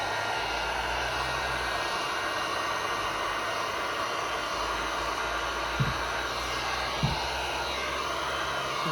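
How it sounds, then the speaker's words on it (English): A heat gun blows over resin art in a steady, loud broadband whoosh that runs unbroken throughout, with a couple of faint knocks near the end and no voices. "take my heat gun again and blow around"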